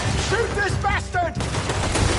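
Dense gunfire in a Western action game, rapid overlapping shots rattling continuously under excited shouting voices.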